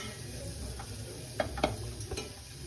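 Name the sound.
stirring chili pieces in a pan for lentil tempering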